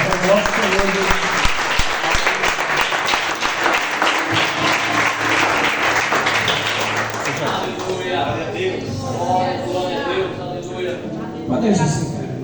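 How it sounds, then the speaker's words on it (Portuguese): A church congregation applauds during a worship service, a loud, continuous wash of many hands clapping that fills most of the stretch before thinning out under a preacher speaking. "As palmas não é do pastor, mas é do nosso Senhor Jesus"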